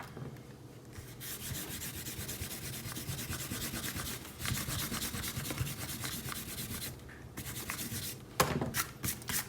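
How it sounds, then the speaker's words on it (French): An eraser rubs away pencil construction lines on a drawing in quick, soft scrubbing strokes. It sounds fairly faint and close, runs almost continuously for several seconds, and ends with a few sharper brushing sounds. "on peut gommer nos traits de construction"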